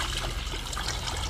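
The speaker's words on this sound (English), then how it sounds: "Pour some vinegar into a pitcher." Vinegar poured into a pitcher, a soft continuous trickling and splashing of liquid, close and fairly quiet, with no talking.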